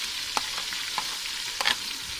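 Brown onions sizzle and fry in a pan in a village kitchen as tomatoes go in, a steady hiss broken by several sharp stirring scrapes, close and moderately quiet with no talk.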